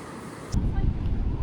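Rough Pacific surf near the Higashi-Hennazaki lighthouse on Miyakojima, Japan, a loud continuous roar of breaking waves mixed with wind buffeting the microphone, swelling sharply after a quieter opening moment.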